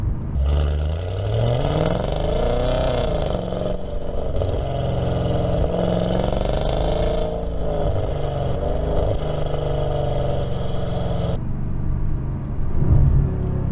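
An Audi S6/S7 exhaust with an 034 Motorsport X-pipe roars loudly under hard acceleration, rising through the revs with crisp ignition-cut crackles up top before backing off near the end.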